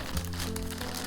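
Thin cured forged carbon fiber cloth tearing by hand, a brief close, dry crinkling rip with a low steady hum running underneath.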